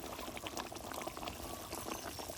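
Mustard gravy with bhola fish boils in a pan, giving a soft, continuous bubbling and gentle popping that sounds close but quiet, with no talking.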